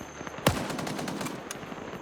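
A single sharp .50 cal sniper rifle shot cracks out loud in a video game, followed by a fainter second report over a steady background of game ambience.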